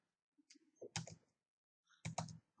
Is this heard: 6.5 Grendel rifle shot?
no